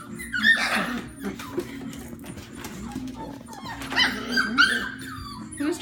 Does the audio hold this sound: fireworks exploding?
no